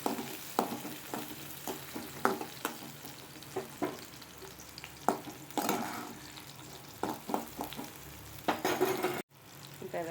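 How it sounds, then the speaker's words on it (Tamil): Onions frying in a pan with cumin for tomato pachadi, a soft steady sizzle punctuated by scraping stirring clinks at irregular intervals, close and fairly quiet with no talk. "இந்த வெங்காயம் லைட்டாக வதங்கட்டும்."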